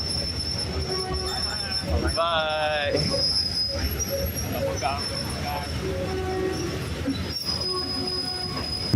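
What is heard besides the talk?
train passing over River Kwai bridge, wheels squealing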